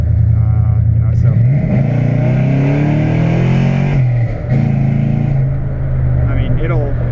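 A cammed Chevrolet Silverado truck accelerating: a loud, close, lumpy engine note climbing in pitch, dipping briefly as it shifts, then pulling up again, with faint voices underneath.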